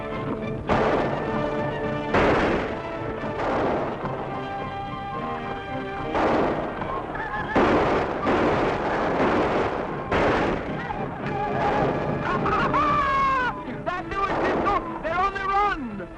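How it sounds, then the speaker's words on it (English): Gunshots in a 1951 Cisco Kid western TV episode, a series of sharp cracks and booms crashing through loud dramatic music, with shouting voices in the mix. "I heard shooting"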